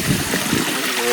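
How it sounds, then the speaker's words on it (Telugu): Small waterfalls in the Ananthagiri hills make a steady, rushing stream of water that holds at a constant level from start to finish, close by. "వాటర్ ఫాల్స్ ఇవి"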